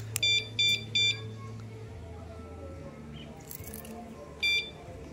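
Short electronic beeps from a wireless anti-theft alarm, three quick chirps in a row and then one more a few seconds later, fairly loud over a low background hum.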